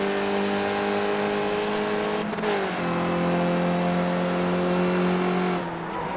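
A race car engine in the iRacing sim game drones loudly and steadily, dipping briefly at a gear change before holding its high whine again; no voices.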